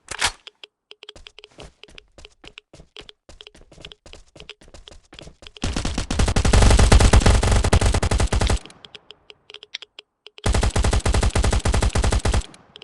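Gunfire in the survival shooter Last Island of Survival, starting as sparse single shots and then breaking into two long, loud bursts of rapid automatic fire with a short gap between them.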